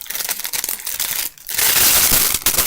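Crinkly plastic wrapping on a tissue bag from a doll accessory set is crumpled and handled up close, with loud continuous rustling, a brief lull midway, then a denser burst of crackling.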